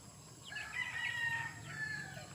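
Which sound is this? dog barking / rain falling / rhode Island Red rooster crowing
rhode Island Red rooster crowing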